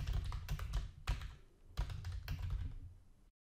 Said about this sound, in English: allowing me to finish my typing